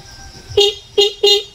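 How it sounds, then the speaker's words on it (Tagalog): The weak horn of a 125 cc motorcycle beeps three times in short, evenly spaced toots, close and fairly loud over a quiet background. "may busina mahina."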